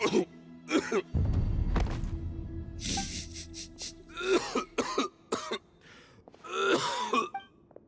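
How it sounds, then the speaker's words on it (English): An old man in Genshin Impact coughs repeatedly in harsh, rasping fits, with throat-clearing and groaning between bursts, close and loud. "Why is he coughing so much?"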